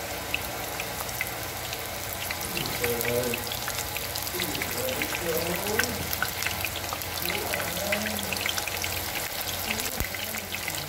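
Tofu deep-frying in hot oil for a salt-and-pepper tofu dish, a steady close crackle and sizzling hiss running throughout, with faint wavering tones in the background.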